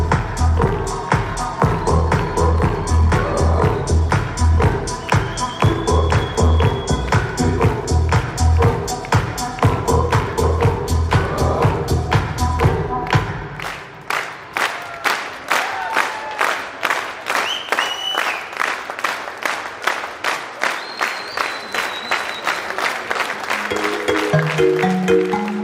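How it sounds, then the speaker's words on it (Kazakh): Crowd standing and applauding at a circumcision celebration feast in Shymkent, with rhythmic clapping over festive music at first. Then dense, loud applause with cheers carries on, and music briefly returns near the end. "бүкіл Шымкент орнынан тұрып шапалақ ұрып"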